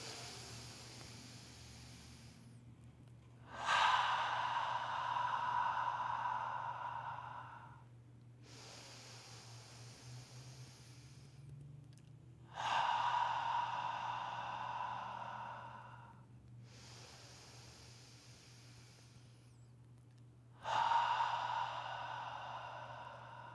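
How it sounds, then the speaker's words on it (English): A group draws three long breaths in through the nose, each a soft, drawn-out inhale separated by pauses, faint against a low steady hum. "3 breaths in through the nose."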